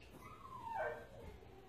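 A puppy named Lucy, a young girl during collar training, gives a single faint, rising whimper that swells briefly at the middle and fades.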